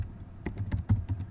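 Quick, close clicking of keys on a computer keyboard, about seven or eight taps in irregular succession with a couple of louder strokes, alone without talking.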